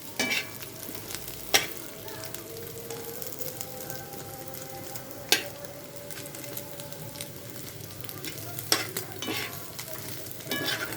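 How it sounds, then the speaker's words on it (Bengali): Chicken, garlic, onion and chili with salt fry in oil in a kadai, a steady crackling sizzle like light rain, with a few sharp clinks of a spatula against the pan and no talking. "এখন আমি এই কড়াইয়ের মধ্যে একটু তেল দিয়ে পরিমাণ মতন আমি চিকেন, রসুন, পেঁয়াজ, মরিচ, একটু লবণ দিয়ে আমি ভালো করে এগুলা টেলে নেব"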